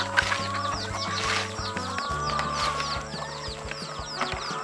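Chickens, including jungle fowl, cluck steadily while being fed on a Thai backyard egg farm, with busy overlapping calls close by, a continuous layered flock chatter and occasional louder squawks.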